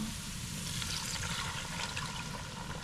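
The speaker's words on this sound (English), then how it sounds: "So we're going to add some water to this pot." A steady stream of water, about three cups, pours into a cooking pot on the stove, making a continuous rushing splash with no talk.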